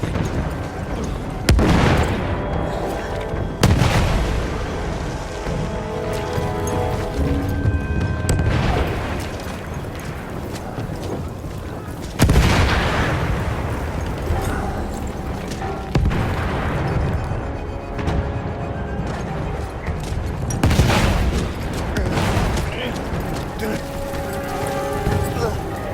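Battle of Normandy footage with machine gun fire, heavy booming blasts and rattling bursts recurring over a dense rumbling din, with a voice talking over the combat.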